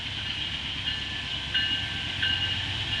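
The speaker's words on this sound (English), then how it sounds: "Here comes a Norfolk Southern" Norfolk Southern southbound intermodal freight train passing, a steady rumbling roar with a sustained high whine and faint squeal, heard from fairly close without talk.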